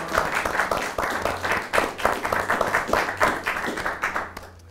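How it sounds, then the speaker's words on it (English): Studio audience clapping for a debater after his opening argument on housing shares, a lively burst of many hands with uneven rhythm, loud and close, tapering at the end. "Round of applause."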